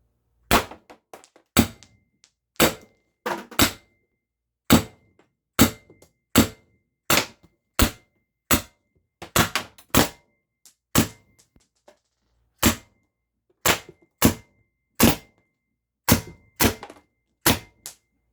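A Pistelle X68 HPA paintball marker at 1100 psi fires heavy rounds fed from a dual drum magazine. About twenty sharp, loud, close shots come singly and in quick doubles and triples, separated by short silent pauses.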